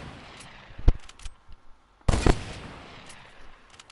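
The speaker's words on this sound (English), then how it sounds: "Why is he only shooting for me?" Fortnite gunfire: a sharp single shot, a few lighter pops, then a louder quick burst of shots, scattered over a few seconds with quieter distant reports trailing after.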